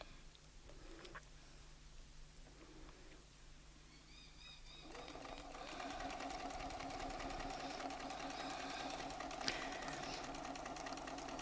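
A sewing machine quilts fabric guided by a ruler template, first quiet, then settling into a steady, continuous motor hum with rapid stitching that runs to the end.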